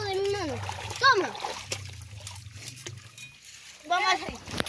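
Water splashes in a river as catfish are caught by hand, with a few short sloshing bursts mixed in among nearby voices talking.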